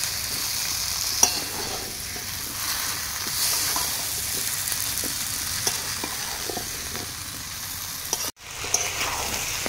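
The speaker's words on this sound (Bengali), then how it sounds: "এখন কিছুক্ষণ কষিয়ে নেব কচু আর আলুটা মশলার সঙ্গে।" Taro and potato pieces being stir-fried in a spiced masala in a pan, a steady close sizzle with scraping stirs and occasional spatula knocks throughout, briefly cutting out near the end.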